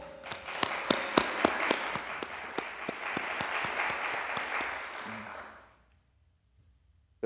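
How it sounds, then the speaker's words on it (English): An audience bursts into applause at a hunger-relief charity gathering, a dense, steady wash of many hands clapping with a few sharp individual claps standing out, holding for about five seconds before fading out to silence. "give yourself a clap."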